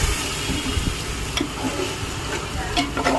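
Marinated food is stirred in a hot pan, with a low steady sizzle under repeated scraping clicks from the spoon, close and fairly loud.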